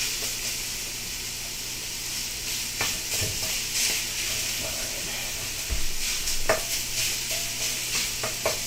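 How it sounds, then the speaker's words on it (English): Lean sausage browns in a hot pan, sizzling and crackling steadily near the mic while a spoon stirs and scrapes at intervals. "Get this sausage browned up."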